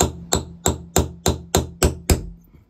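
Eight sharp hammer blows strike a stuck clean-out plug in a basement floor drain, landing in a steady rhythm about a third of a second apart, loud and close with short metallic ringing tails.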